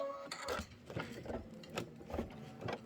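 An embroidery machine stitches a satin stitch on a spring pennant, giving quick rhythmic mechanical bursts of needle clatter with short pauses between them, fairly quiet and close by.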